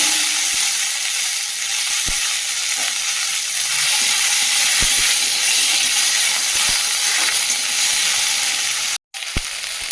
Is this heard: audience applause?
no